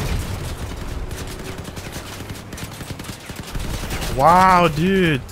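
Dual Reaper miniguns and dual Mammoth cannons fire in a Crossout vehicle battle, a dense rapid rattle of gunfire running throughout with heavy booms, while someone talks over it and brief tonal game sounds rise near the end.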